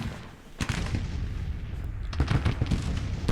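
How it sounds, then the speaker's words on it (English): Artillery shells fire and land in the American Civil War strategy game Grand Tactician, a series of loud booming blasts with heavy low rumble, the strongest near the start and a cluster of impacts toward the end. "22nd North Carolina is being shelled."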